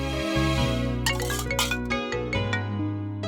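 A mobile phone plays a melodic musical ringtone in a film scene, with steady tones and short bright accents running continuously and no talking over it.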